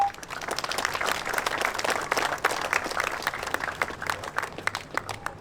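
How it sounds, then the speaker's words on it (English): Outdoor crowd applause at a charity tractor run, thanking the organizing committee. Scattered then fuller clapping builds and holds, with individual sharp claps standing out near the end and faint background noise. "So a big round of applause for those lads as well."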